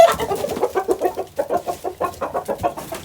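Chickens on a farm cluck in a rapid, close series of short throaty calls, a busy stuttering rhythm of bursts over about three seconds.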